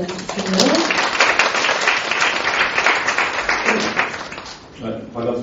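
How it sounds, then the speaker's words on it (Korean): A lecture hall audience applauds to welcome a doctor stepping up to give a special hospital lecture, with dense, steady clapping filling nearly the whole span before it thins out near the end. "큰 박수로 맞아주세요."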